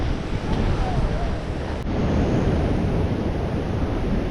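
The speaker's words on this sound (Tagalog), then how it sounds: "Ayan, laki ng alon" Loud, continuous rumble of big ocean waves breaking nearby at a rocky fishing spot, mixed with gusty wind noise on the microphone and a brief click midway.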